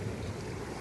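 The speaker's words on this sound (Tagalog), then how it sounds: "malakas ang alon" Strong sea waves at Baler beach roll and wash in a steady, broadband surge, with wind buffeting the microphone throughout.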